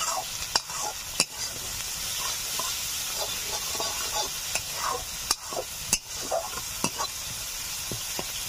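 A spatula stirs mustard paste through fish curry frying in oil in a pan. A steady sizzle and hiss runs under repeated scraping strokes and a few sharp clacks of the utensil against the pan.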